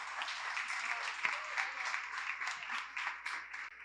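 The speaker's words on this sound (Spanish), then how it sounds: "Un aplauso." A women's church event audience gives a round of applause. Clapping is soft and fairly distant, a steady patter with individual claps standing out more sharply toward the end.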